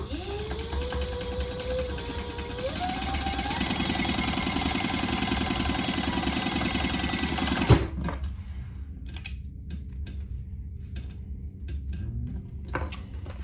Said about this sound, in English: let's just top stitch it at 1/8 of an inch